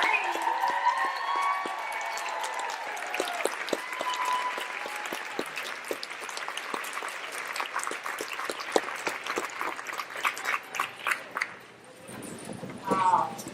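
Large audience at a planner conference giving a warm round of applause to welcome a speaker, dense clapping that builds and then tapers off, with a voice speaking near the start and end.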